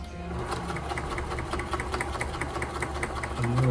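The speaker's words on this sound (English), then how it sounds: "I'm gonna sew it up." A $10,000 sewing machine stitches a seam with a fast, even mechanical chatter that keeps a steady rhythm throughout, close and clear.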